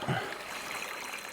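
Water from a Milwaukee M18 stick pump emptying a pool gushes out in a steady, close, continuous rush without a break.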